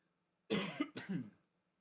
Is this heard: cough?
yes